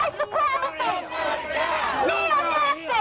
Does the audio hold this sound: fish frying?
no